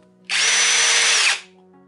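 A Ferrex Pro 40V brushless cordless combi drill spins in its high-speed mode, close and loud, in one steady whine for about a second before winding down and stopping.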